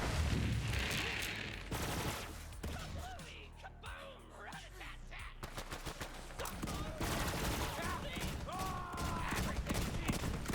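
Ongoing gunfire in Borderlands 3, with dense bursts of shooting and impacts running through the whole stretch, mixed with game effects and occasional voices underneath.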